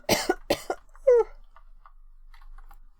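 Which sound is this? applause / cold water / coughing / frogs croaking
coughing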